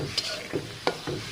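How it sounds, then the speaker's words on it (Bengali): Tengra fish stirred and frying in a pan of cooked-down spiced masala, with steady close sizzling broken by a few sharp scraping stir strokes. "এবার আমি মাছগুলো দিয়ে দিচ্ছি। ট্যাংরা মাছগুলো কষাই নেব"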